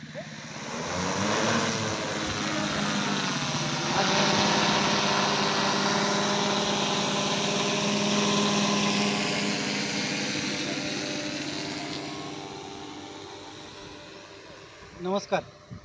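A steady, loud buzzing whine of an Agronics agricultural spraying drone in flight, droning continuously before fading slightly, with brief knocks at the end.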